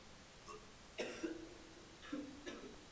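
Several short coughs, a pair near the start and another pair later, fairly faint and close, with quiet gaps between.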